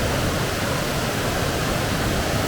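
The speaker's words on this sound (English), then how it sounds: "There's much water flowing and there's little waterfalls and bubble swirls all around" Small waterfalls and flowing water at Ricketts Glen State Park rush in a steady, dense roar, loud and unbroken from start to finish, with no voices.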